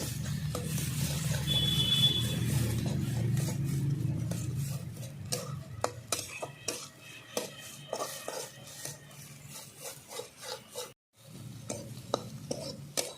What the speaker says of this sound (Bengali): আমি এইভাবে নেড়ে নেড়ে আজকে রান্নাটা কমপ্লিট করব